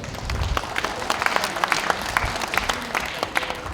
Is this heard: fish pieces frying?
no